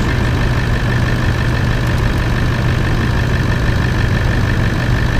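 A Toyota Land Cruiser 200 with the 4.5 D-4D diesel engine idles steadily after being started, a loud, close, continuous rumble with no talk over it.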